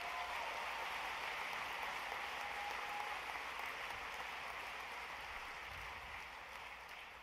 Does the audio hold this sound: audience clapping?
yes